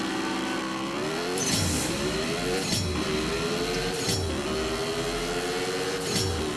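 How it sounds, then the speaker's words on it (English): A car engine in CSR2 racing revs repeatedly, each rise climbing and dropping back in a steady rhythm of whining pulls, held close and fairly loud with no talk over it. "I'll let this rev out."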